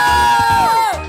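A group of children screaming loudly together in a shouted burst, a sustained high shrill cry that bends downward near the end, close and very loud.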